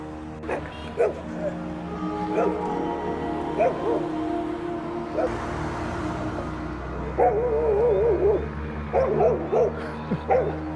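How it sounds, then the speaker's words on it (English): Puppies by a roadside near Gudauri in Georgia bark and yip in repeated short bursts, some whimpering, close by over a steady vehicle rumble, with a voice talking intermittently. "the welcoming committee over here with all the puppies"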